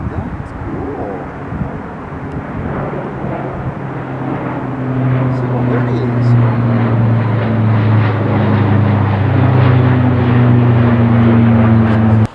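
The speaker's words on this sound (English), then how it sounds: "We are getting a flyover." Propeller aircraft passing low over a former racetrack site, engine drone swelling from faint to loud and holding steady overhead, with people talking beneath it early on.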